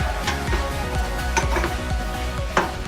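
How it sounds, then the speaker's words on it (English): Spoon scraping and clinking around a bowl of devil's food cupcake batter in a small home kitchen, a run of soft repeated scrapes with a few sharper clinks, close and steady, no talking. "Just stir that up again"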